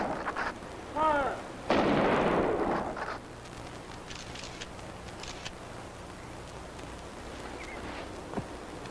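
A rifle volley salute is fired at a memorial ceremony. A loud, booming report is followed by a long rumbling decay and then quieter outdoor ambience.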